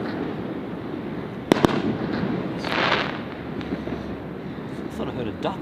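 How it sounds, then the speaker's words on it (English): Fireworks over Darling Harbour in Sydney go off outdoors with a couple of sharp, close bangs and then a rolling crackle and rumble. People keep talking throughout. "Are we gonna watch the fireworks? Here they go. Here come the bigger ones."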